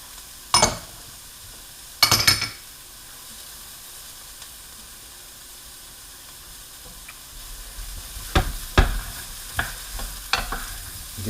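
Minced garlic with yellow and green zucchini sweating in a pan while being stirred, giving a low steady sizzle broken by a few sharp scrapes and clanks of the utensil against the pan.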